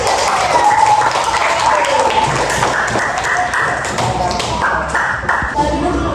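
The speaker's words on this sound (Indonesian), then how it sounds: "Oke, tepuk tangan." A class applauds together, a dense stretch of steady clapping with voices mixed in throughout.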